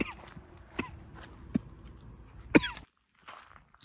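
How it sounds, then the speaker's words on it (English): Several short, sharp coughs from a person at an outdoor campsite after breathing cayenne pepper vapor, close and fairly loud with brief pauses between them, ending in quiet. "just a couple little like vapors got into my throat, and it makes you cough"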